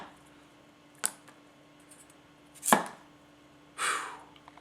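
Three separate cuts into an onion with a Masakage Koishi 270mm gyuto knife, each a crisp crunch ending in a knock on the cutting board, close up and spaced about a second apart, with no talking.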